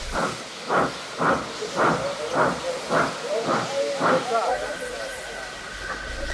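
A steam engine in a video game chuffs in rhythmic hissing bursts, then settles into a steady hiss with a faint whistle-like tone.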